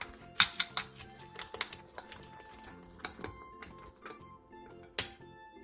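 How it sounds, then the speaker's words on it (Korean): Enoki mushrooms, green chili, three eggs, minced garlic and salt being mixed in a bowl, heard as irregular sharp clinks and taps of a utensil against the bowl, close and uncovered by any voice. "볼에 팽이버섯과 청양고추, 계란 3개, 다진 마늘 3분의 1스푼, 소금 1티스푼을 넣고 골고루 섞어주세요"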